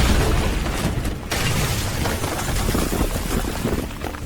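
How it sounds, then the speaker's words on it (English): A loud, sustained explosion roars across the whole clip as a dense, broadband rumble, close and overwhelming, with no voices over it. "Everyone looked in the direction of the explosion, and saw Carl walking slowly out of the pile"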